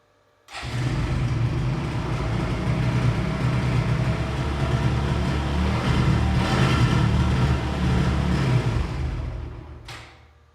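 A Suzuki GSXR motorcycle engine fires up after cranking and runs with a loud, rough, steady roar for several seconds up close before cutting off.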